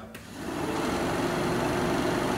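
A Peugeot 205 radiator cooling fan whirs up and runs steadily with a broad, even rushing hum, close by and fairly loud, starting just after a small switch click.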